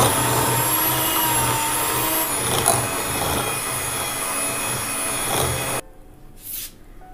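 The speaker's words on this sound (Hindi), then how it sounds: "अच्छी तरह से इसे ब्लेंड कर लेंगे।" A blender whirs steadily and loudly as it mixes cupcake batter with oil, a dense close motor whine that cuts off abruptly near the end, leaving a faint brief rustle.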